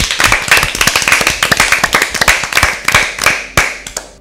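A small audience at an Easter Bible quiz claps for Team B, close and crisp hand claps in a fast, somewhat uneven rhythm that thin out toward the end.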